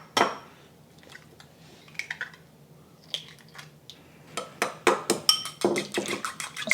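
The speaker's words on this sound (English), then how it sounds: "I'm also going to beat 3 eggs." Eggs being beaten in a bowl, three of them, with a quiet scattered tapping at first that builds into a quick run of sharp clinks and whisks against the bowl, close and alone.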